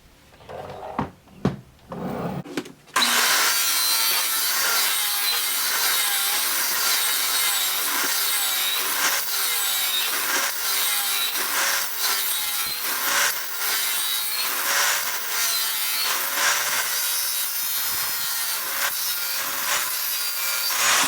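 Steady, rasping back-and-forth sawing through a hard epoxy resin block, continuous and close for about eighteen seconds after a few brief knocks.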